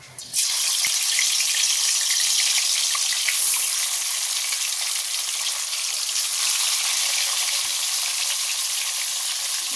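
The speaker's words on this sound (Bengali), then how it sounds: "এই যে এখানে তেলও গরম হয়ে গেছে, এবার মাছগুলো ছেড়ে দেবো" Fish drop into hot oil and fry with a sudden loud sizzle that settles into a steady, close crackling hiss, with no talking.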